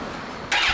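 A 2002 Suzuki Hayabusa motorcycle engine with an aftermarket exhaust catches and roars to life after a brief quiet hum, loud and close.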